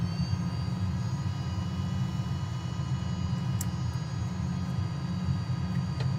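A Cirrus Vision Jet in a flight simulator, heard from inside the cabin as a steady, unbroken engine drone with a heavy low rumble and a faint high whine throughout, with a few tiny clicks on top.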